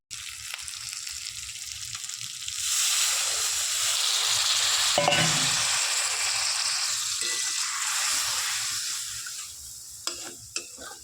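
Water poured into a hot pan while cooking Bengali doi katla, a carp curry in yogurt sauce, sets off a loud, sustained hiss and sizzle that swells midway, then eases, with a few sharp clinks of a utensil near the end.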